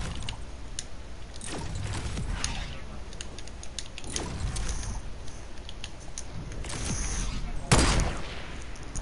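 Video game gunfire rattles out in several short bursts and cracks, with a loudest blast near the end, over a steady background and faint mumbled voice.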